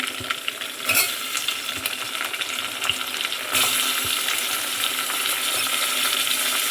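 Tomatoes added to onions frying in a pan, a steady close sizzle with occasional stirring scrapes, the hiss growing louder and brighter midway as the tomatoes hit the oil.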